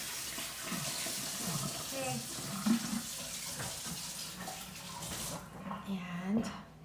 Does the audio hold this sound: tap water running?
yes